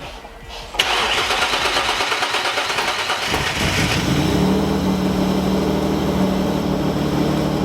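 A V6 engine cranks and fires abruptly, roaring loudly before settling into a steady, rumbling idle.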